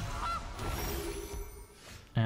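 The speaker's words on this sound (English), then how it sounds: "Opponent does have a turn 1 Goose." Goose honk as a Goose card is played in MTG Arena, a short burst of game sounds ending in a loud, nasal honk at the close.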